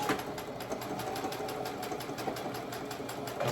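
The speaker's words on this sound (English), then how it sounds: "So we're going to sew down, always back stitch." A sewing machine stitches a tote bag at a steady, fast rhythm, its motor whirring continuously and close by for the whole stretch with no talk.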